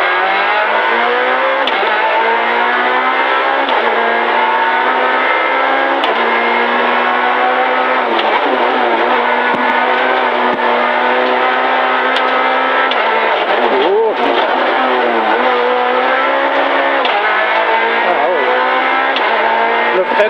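A rally car engine in a DG Sport Herock Rally Xperience drives hard in-car, roaring loudly and continuously with repeated rises and drops in revs through gear changes, and people talk faintly beneath the noise.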